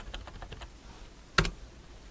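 Amounts are typed on a computer keyboard into ERP accounting software, a quick run of soft close key clicks followed by a pause and one sharper, louder keystroke.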